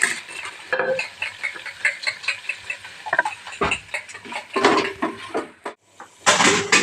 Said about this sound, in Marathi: याला 2 मिनटं ऐसा स्लो गॅसवर फ्राय करून घ्यायचा आहे.